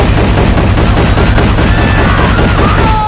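Rapid, continuous gunfire from a film action scene, a loud dense burst of shots that fills the whole stretch with a steady rattling rhythm and no pauses.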